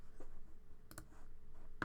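Computer mouse clicks while designing a label, a few quiet sharp clicks including a quick double click, close and alone in a quiet room.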